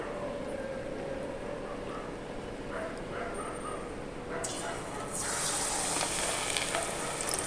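Battered jute leaf fritters frying in hot oil, a steady broadband sizzle that swells louder about halfway through as more batter hits the oil, with faint background voices.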